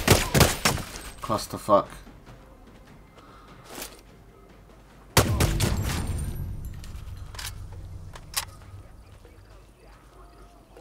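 Sniper rifle shots in Sniper Ghost Warrior 3 at an outpost roadblock: a cluster of sharp cracks at the start, then a single heavy boom with a long rumbling decay, a few later impacts, and a voice speaking briefly.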